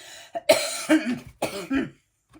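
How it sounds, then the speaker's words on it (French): A person coughs several times in quick bursts, close by, with short pauses between the hacking coughs. "Pardon, je commence à tousser."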